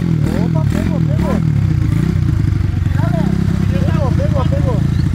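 A Pop 110 motorcycle fitted with a Titan 150 engine and 70 mm piston runs close by, with a loud steady idle that blips and revs a few times while someone talks over it.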